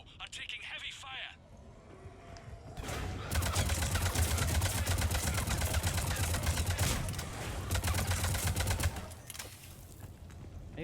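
Dense, sustained gunfire from a combat scene in the video game Mass Effect 3, a loud continuous rattle of rapid shots filling most of the stretch after a quieter opening.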